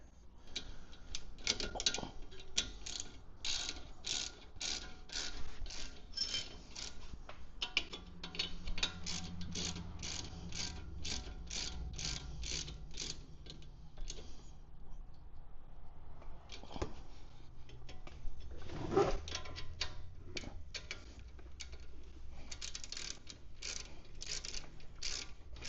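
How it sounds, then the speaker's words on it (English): Rapid ratcheting clicks from a torque wrench tightening front brake caliper bolts on a Mini Cooper F56, in quick bursts with a short pause midway, close and fairly quiet. "have a torque wrench available so you can torque them to spec"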